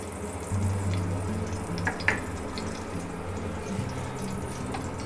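A steady stream of water pouring and splashing into a pan of turmeric for kadhi, continuous and fairly close, with a faint sizzle and a couple of light clinks.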